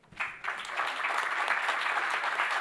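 A crowd bursts into sustained applause, dense clapping that builds quickly and continues evenly to the end.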